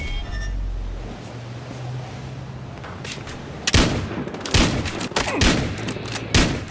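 Gunfire in the multiplayer shooter Battlefield Hardline: after a steady background rumble, a burst of loud, rapid shots and repeated bursts crack out in the second half, close and dense.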